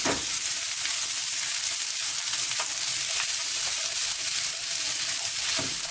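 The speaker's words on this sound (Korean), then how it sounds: "다 썬 양파를 프라이팬에 넣고 볶아주세요." Diced onion and whole garlic cloves frying in a pan, a continuous dense hiss of sizzling oil close by with a few faint clicks of stirring, no voices.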